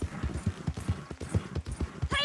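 Rhythmic hoofbeats of a horse in Red Dead Redemption 2 at a steady walk, close and clear, ending with a brief higher-pitched call like a whinny.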